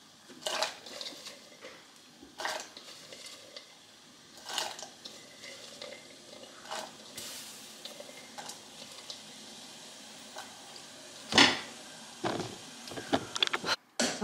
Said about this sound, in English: The water is now boiling behind me, so let's go there.